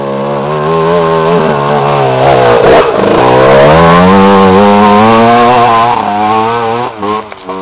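A Super Neo31 motorcycle with its original exhaust pipe, revving on a trail ride; a loud, close, buzzy engine note that climbs and falls in pitch over several seconds.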